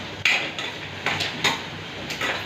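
A kadai is handled while cooking, producing several sharp metallic clanks and scrapes spaced irregularly over a low background hiss.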